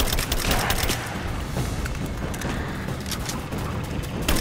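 Gunfire in the video game Rise of the Tomb Raider: rapid, dense bursts of shots and impacts crackle almost continuously, loud and busy, with no voices over them.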